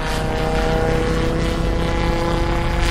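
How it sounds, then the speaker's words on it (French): Aircraft and warships in a prewar naval battle, with seaplanes and carrier planes overhead, heard as a loud, steady engine and propeller roar mixed with heavy mechanical drone throughout. "Avions et vaisseaux mers."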